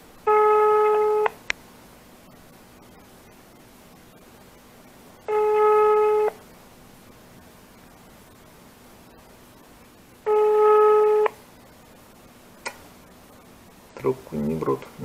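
Busy signal on a telephone line when calling an emergency utility service in Kaliningrad about no tap water: three steady beeping tone bursts about five seconds apart, quiet between them, ending with a clunk and faint handling noise.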